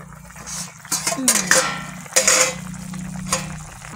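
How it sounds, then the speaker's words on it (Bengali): A cooking pot lid is lifted while food cooks, with several metallic clanks and scrapes against the rim, a brief rising scrape, and light sizzling underneath. "ঢাকনাটা খুলবো।"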